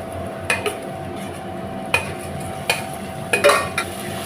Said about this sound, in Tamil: சேர்த்துட்டு நல்லா கலந்து விட்டு இந்த எண்ணெயிலேயே ஒரு ரெண்டு நிமிஷம் நல்லா வதக்கிக்கலாங்க